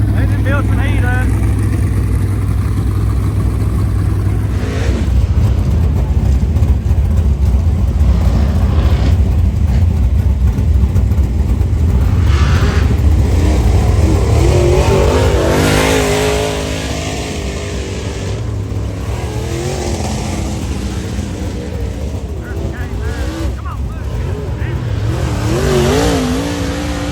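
Race car engines at Rockcastle idling and revving while building heat, loud continuous rumble with rising and falling revs and some higher whining pitch sweeps later, with people talking over parts of it.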